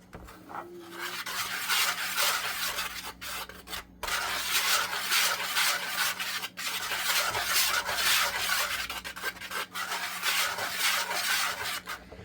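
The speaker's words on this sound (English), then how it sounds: "I'm going to whisk these together" Flour, baking soda and salt are whisked together in a bowl, giving a close, continuous scraping and rasping with a steady rhythm and a few brief pauses, and no one talks.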